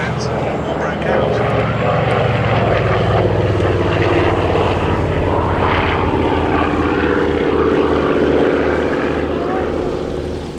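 An Avro Anson C19 propeller aircraft flies a display at an air show, its engines a steady loud drone that holds throughout with a slight swell, under a continuous wash of crowd and ambient noise.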